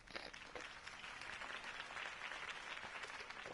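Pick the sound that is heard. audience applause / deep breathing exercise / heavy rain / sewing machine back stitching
audience applause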